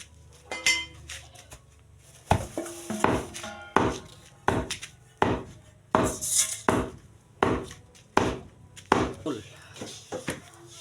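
Hot rice being pounded for pinipig, heard as a run of about a dozen sharp, loud thuds in an uneven but steady rhythm, close by and mostly without talk.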